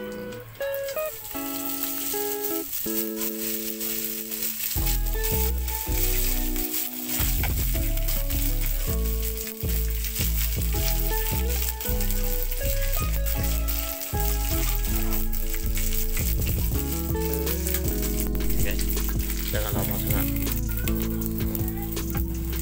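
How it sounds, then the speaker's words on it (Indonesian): Anchovies (ikan bilis) fry in hot oil with a steady, rain-like crackling sizzle, mostly buried under loud background music. "Kita nak goreng kita punya ikan bilis dulu guys."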